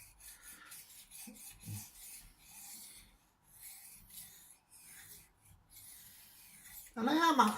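Sharpening a knife toward a mirror edge produces quiet, repeated rasping strokes in short bursts separated by pauses. Near the end, a voice starts speaking.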